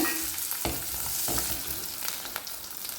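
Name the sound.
garlic and onion frying with mustard seeds in pan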